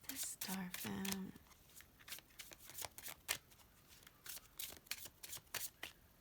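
Tarot cards are shuffled by hand in a series of close, crisp riffles and soft slaps, repeating in uneven bursts. A brief voice sounds at the start.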